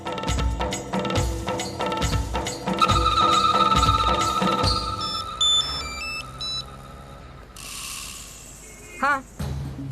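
A phone rings on an outgoing call to a woman's brother: a series of short electronic tones enters after dramatic music fades, moderately loud with no talk over it.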